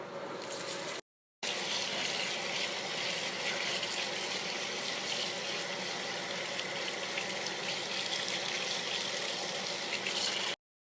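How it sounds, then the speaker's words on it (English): Rice being rinsed under a running kitchen tap, a steady loud gush of water splashing in a sink that continues almost without pause, broken only by one brief cutoff near the start. "I'm gonna rinse the rice to get rid of the excess starch"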